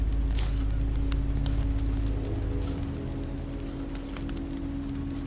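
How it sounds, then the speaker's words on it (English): Rain falls steadily in a video game, a constant broadband hiss of drops with a low droning tone beneath it and no speech. "This rain will turn to sleet, then ice, then snow."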